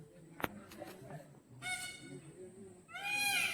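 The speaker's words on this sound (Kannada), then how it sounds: "ಅದಕ್ಕೆ ಆಪೋಸಿಟ್ ಆಗಿ ಒಂದು ನವಿಲು ಕೂಗ್ತಾ ಇದೆ ನೋಡಿ" Two loud, harmonic peacock calls come from a bird near a house beside banana and coconut groves; one honking call rises around the middle and a second, stronger one near the end, over faint background noise.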